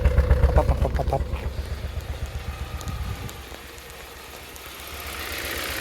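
A 2016 Kia Sorento engine idles roughly with a cylinder 4 misfire, a loud close rhythmic pulsing chug that shakes unevenly for about three seconds, then drops to a quieter, steadier hum.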